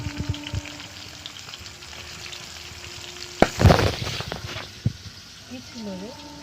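Chopped onions hitting hot oil in a pan while cooking an aar fish curry, giving a steady moderate sizzle with a louder burst of frying and stirring midway, under occasional nearby speech.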